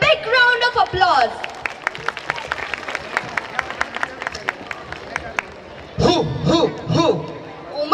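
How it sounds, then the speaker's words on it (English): An audience of parents claps at a school annual day dance performance, in a series of sharp, evenly spaced claps with crowd murmur. Voices talk before and after the clapping. "Parents, give them a big round of applause."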